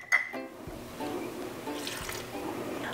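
Water poured into a pot of about four cups of sliced cherries and a third cup of sugar, a short liquid splash and trickle lasting a couple of seconds, close by, with no one speaking.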